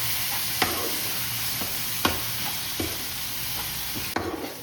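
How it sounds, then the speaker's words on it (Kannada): Masala frying in oil in a pan for paneer butter masala, a steady close sizzle with a few sharp scrapes of stirring cutting through it, no voices. "ಸ್ವಲ್ಪ ಹಸಿ ವಾಸನೆ ಎಲ್ಲ ಹೋಗಿ ಎಣ್ಣೆ ಬಿಟ್ಕೊಳ್ಳೋವರೆಗೂ ಫ್ರೈ ಮಾಡ್ಕೊಳ್ಳೋಣ."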